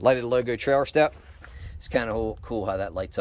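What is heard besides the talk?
No distinct noise like a dog, phone or traffic.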